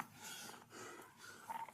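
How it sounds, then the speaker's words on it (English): A police officer breathes hard, with faint, rough snorting breaths and wheezing pants repeating in a quiet, muffled background with no clear speech. "The police officer breathing hard?"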